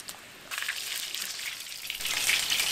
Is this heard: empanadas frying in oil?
yes